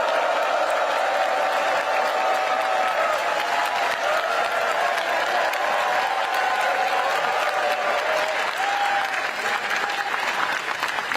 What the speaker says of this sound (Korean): 열렬한 환호와 박수를 부탁드립니다.